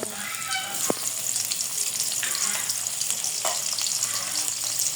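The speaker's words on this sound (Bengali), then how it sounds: "তেল গরম হয়ে গেছে পেঁয়াজ কুচি দিয়ে দেব" Chopped onions go into hot oil for a prawn and fig dish, giving a loud, steady sizzle and crackle throughout with a single sharp utensil clink early on.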